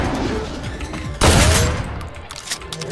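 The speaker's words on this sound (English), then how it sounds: "Ventilate them with a shotgun." A single loud shotgun blast in a horror video game booms sharply, then rings out in a decaying tail, with a few faint clicks after it.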